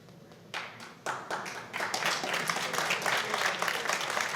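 An audience at a 9-ball pool match at the 2015 U.S. Open 9-Ball Championship claps, starting with a few scattered claps and building into steady, full applause.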